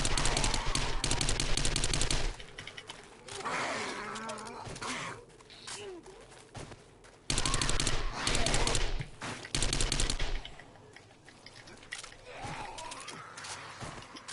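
An SMG fires at zombies in the video game 7 Days to Die on PS4, with loud rapid bursts of automatic fire split by short pauses, alongside game ambience and groaning creatures.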